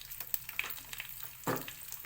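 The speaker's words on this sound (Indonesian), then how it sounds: "Yuk kita tumis dulu ya untuk memudahkan kita nanti dalam mengulek" Rendang spice ingredients sauté in a pan: a faint, steady sizzle and frying crackle with a few soft stirring scrapes and one brief louder hiss.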